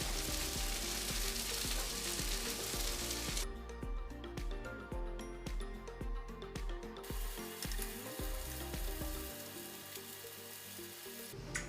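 Birria quesa tacos frying in a pan, a steady close sizzle running throughout with occasional faint clinks.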